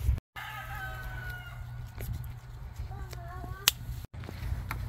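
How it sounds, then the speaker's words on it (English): A small flock of roosters and hens outdoors, with a rooster crowing and hens clucking in several short calls at moderate distance over faint background noise. "right now it looks like we have a couple of roos and a couple of hens"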